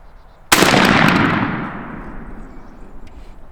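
A single loud shotgun blast fired while patterning a turkey-hunting load outdoors: one sharp, close report followed by a long fading rumble, with no talking.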